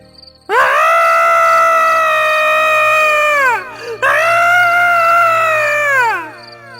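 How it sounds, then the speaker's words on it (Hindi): Two long, loud, high-pitched screams in a row, each held for a few seconds before trailing off, with a faint low drone beneath. "तभी उसे किसी के चीखने की भयानक आवाज सुनाई देती है।"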